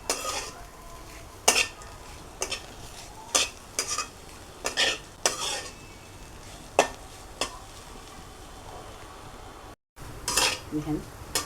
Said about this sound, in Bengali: এগুলো দিয়ে আর একটু ভেজে নেব।